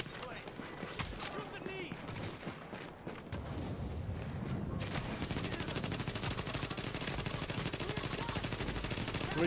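Gunfire from the video game The Division, dense and continuous, rattling bursts that build into nearly unbroken shooting over the second half, with someone talking over the action.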